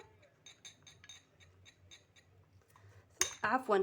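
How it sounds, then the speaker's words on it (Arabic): A spoon clinks and scrapes against a small bowl while face-mask ingredients, including omega-3 capsule oil, are stirred together. Soft, fairly even taps repeat close by, and a brief voice at the end briefly drowns them out. "ونخلط المكونات جيدا مع بعضها البعض"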